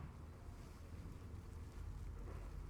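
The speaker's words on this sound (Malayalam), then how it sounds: "എന്തോ ഒരു കാറ്റാണെന്നറിയോ. ഈ കാറ്റ് ഇങ്ങനെ അടിച്ചിട്ടാണ്ട് നമ്മളെ ചെടികളൊന്നും അധികം വലുതാവാത്തത്." Strong wind gusts steadily across an outdoor garden, a loud continuous roar and rumble buffeting the microphone with no voices.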